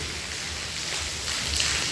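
Steady rain hisses on surfaces nearby, a dense continuous wash of sound with no voices.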